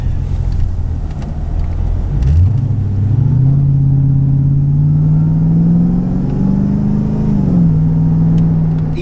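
A Mercedes-Benz E55 AMG W210 with a Kleemann 55-K2 supercharger and a misfire drives under load, its engine drone rising steadily with a loud close rumble, then dipping briefly near the end as a gear changes.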